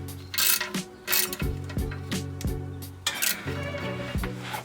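A ratchet clicks in quick bursts while tightening the oil drain bolt on a Nissan GT-R R35, several rapid strokes of metallic ticking at close range with brief pauses between them.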